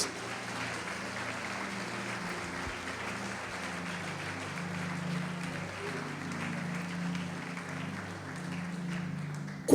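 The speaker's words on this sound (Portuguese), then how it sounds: "Pode aplaudir Jesus." A church congregation breaks into sustained applause, dense steady clapping holding at an even level throughout with a crowd murmur beneath and no break.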